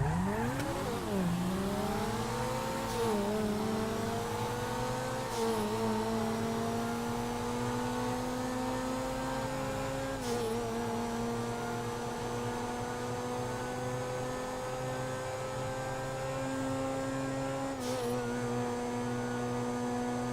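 Engines of the Turismo and Jester race cars in GTA V drone steadily for the whole stretch, rising and settling in pitch with gear changes, loud and continuous with no talking.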